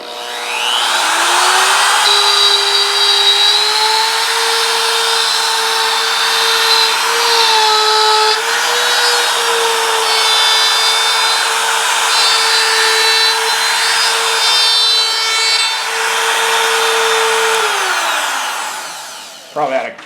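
A router held in a Milescraft circle guide cuts a circular path in wood with a steady, loud high whine that holds for about seventeen seconds and then spins down.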